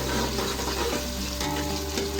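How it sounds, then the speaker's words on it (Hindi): Onions sizzle steadily while frying to light brown in a pan for yakhni pulao. A spatula stirs them throughout, giving soft scraping strokes over a dense, continuous hiss. "तो हम इसको लाइट ब्राउन फ्राई करेंगे, और हम पलटे की मदद से इसको चलाएंगे।"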